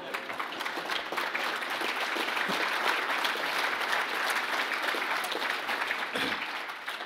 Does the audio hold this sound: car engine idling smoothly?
no